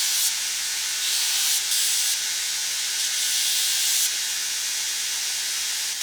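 A belt grinder takes a little off the tip of a skeleton knife blade, giving a steady, loud, bright hiss that holds for six seconds with slight surges in pressure and no voices.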